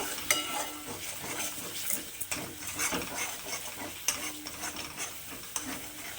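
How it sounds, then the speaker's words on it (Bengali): Spices fry with salt and Kashmiri red chilli powder for a meatless matar paneer, the pan sizzling softly under repeated spatula scrapes and knocks against the pot, close up with no voices. "এবার মশলাগুলোকে খুব ভালো করে কষিয়ে নেব"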